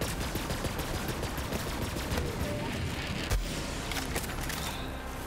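Dense, continuous gunfire from a weapon in Borderlands 3 rattles along without a break, loud and busy, with a heavier thump around the middle and a layer of game noise underneath.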